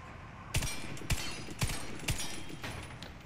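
Close, loud single gunshots from the M249 Para Gold machine gun in Warface, four main cracks roughly half a second apart plus a couple of fainter reports, over a constant ambient hum.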